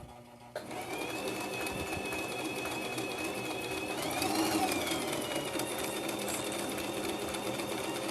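A sewing machine stitches a buttonhole, starting abruptly and running as a steady close mechanical whir with a faint rhythmic needle patter and a brief rising whine partway through.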